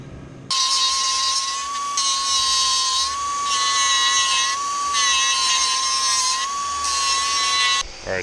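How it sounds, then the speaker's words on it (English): A power tool whines steadily while cutting metal plates for an angle kit on an Audi B5, a loud continuous high-pitched drone that runs for nearly eight seconds with slight rises and dips in pitch, and no talking. "Now I'm just cutting out the plates for the other side."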